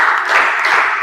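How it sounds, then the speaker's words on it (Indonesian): A group claps on a spoken count in a classroom or training session, heard as a dense, loud burst of clapping with no clear separate beats, and no talk over it. "Tepuk 1, tepuk 2, tepuk 3."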